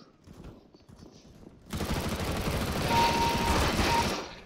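Sustained automatic gunfire from Counter-Strike: Global Offensive bursts in loudly after a quieter start and rattles on almost without break to the end, with a brief whine partway through.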